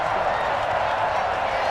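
Football stadium crowd from a Bucs vs Falcons game, a dense continuous roar of many voices reacting with displeasure to a penalty flag, steady and loud throughout.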